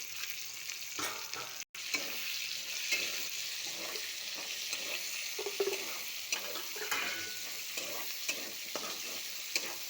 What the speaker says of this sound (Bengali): টমেটোগুলো একসাথে ভাজতে হবে।